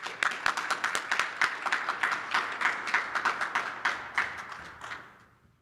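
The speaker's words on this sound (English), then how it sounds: "Let's give them a round of applause." Audience applause at a university leadership and engagement awards ceremony, a room full of steady clapping that holds for several seconds and then fades away.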